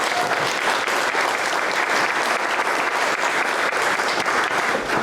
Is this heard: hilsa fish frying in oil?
no